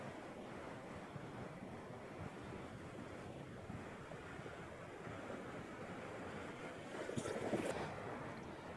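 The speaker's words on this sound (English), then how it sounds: "capture some nice wave movement with this beautiful sunset as a backdrop" Ocean waves wash into rocky gullies at Gerroa, a continuous close, rushing surf wash with a slight swell near the end, mixed with wind on the microphone.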